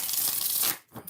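Tarot cards are shuffled close up, a steady dry riffling and rubbing that runs for most of a second and then stops, ending in a few soft card slides.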